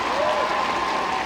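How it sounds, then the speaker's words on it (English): Dense, steady clapping from a large audience at a live comedy show, loud and sustained through the brief moment with a faint murmur of voices mixed in. "Let's give a round of applause for yeah."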